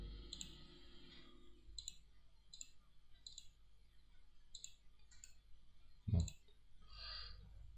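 Mouse clicks while drawing a pipeline in WaterCAD hydraulic modeling software, a string of small, faint, evenly spaced clicks about every half second to second, with a louder thump near the end.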